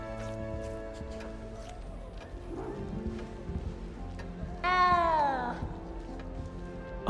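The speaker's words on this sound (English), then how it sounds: "You don't need to be frightened, little cat." Cat in the Hogwarts Legacy video game gives one loud, drawn-out meow near the end, rising then falling. Game music and ambient sounds run underneath, and there is no speech.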